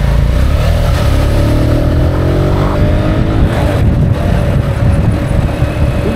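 A Kuba TK03 50cc motorcycle with a new carburetor rides through heavy traffic. Its small engine buzzes loudly and continuously with rising revs, mixed with surrounding car noise and wind.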